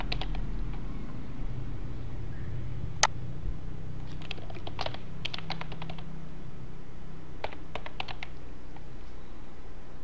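Keys on a computer keyboard being typed in short scattered bursts and single taps, close and fairly quiet over a steady low background hum, while code is edited for PHP pagination with Bootstrap 4.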